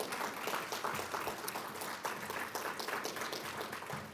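An audience at a presidential distinguished lecture breaks into steady, sustained applause, a dense wash of many hands clapping together that holds at an even level throughout without fading.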